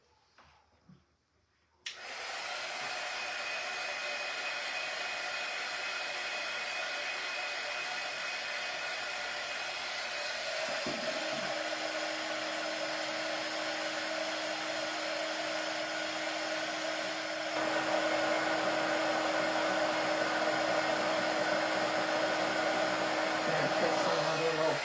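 A hair dryer blows steadily and close after a quiet start, its whoosh growing slightly stronger partway through as the motor pitch shifts, continuing unbroken to the end.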